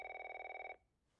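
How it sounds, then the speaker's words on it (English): A telephone in The Last of Us rings with a rapid trilling electronic bell, one burst under a second long that cuts off abruptly into quiet. "Phone's a-ringing."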